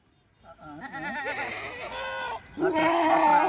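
Kathiawadi dairy goats bleat nearby in loud, wavering calls, one after another with a short gap, overlapping into a chorus toward the end.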